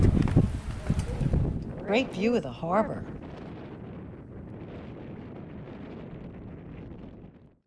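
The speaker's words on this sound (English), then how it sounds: "A little windy today." Wind buffets the top of the fort at St. Augustine overlooking the harbor, a rough low rumble against the microphone that continues steadily after a person speaks over it at the start.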